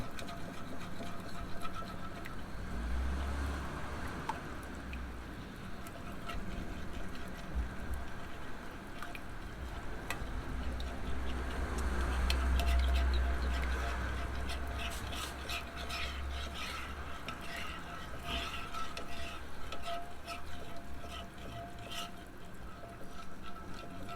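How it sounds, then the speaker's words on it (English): Thick gravy simmers down in a cast iron skillet with pork chops, giving a soft, steady bubbling and squishing that holds at a low, even level throughout with no voices. "gravy for my pork chops. Let all that boil down."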